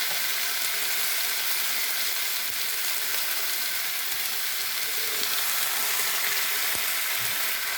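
Young jackfruit and potatoes with spice paste fry in a pan, giving a steady close hiss and sizzle with occasional soft stirring knocks, no talking.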